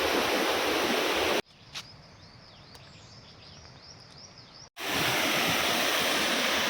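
Dev Kund waterfall in Mayurbhanj, Odisha, pouring fast over rocks: a loud, steady roar at the start and end, broken by a quieter middle stretch where faint bird chirps come through.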